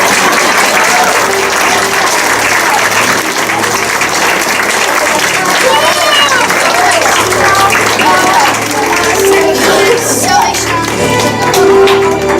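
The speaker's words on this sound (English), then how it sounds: "Everybody clap." Continuous loud applause from an audience at a live dinner-theatre murder-mystery show, steady clapping filling the whole stretch with crowd noise and voices mixed in.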